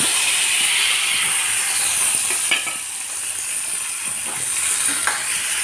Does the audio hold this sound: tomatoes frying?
yes